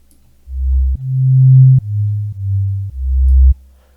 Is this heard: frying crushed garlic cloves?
no